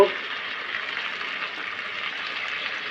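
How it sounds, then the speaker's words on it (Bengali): Potatoes added to a hot frying pan and stirred during muri ghonto cooking, a sharp initial hit then a steady soft sizzle with no talking. "এবার আলুটা দেব আলুটা দিয়ে নেড়ে নেব"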